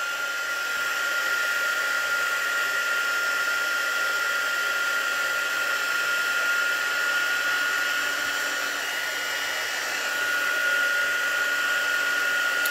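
A hot air blower roars steadily and close up as it heats a ribbon to shrink it, a constant loud whooshing hiss with no pauses across the whole stretch.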